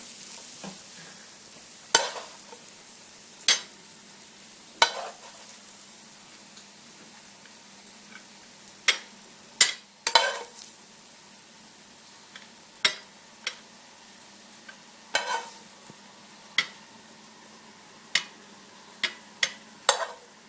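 Avocados sautéing and browning in a frying pan for a pork dish, with a low steady sizzle broken by a series of sharp, irregular pops and spatters, about a dozen bursts spread across the stretch, no talking.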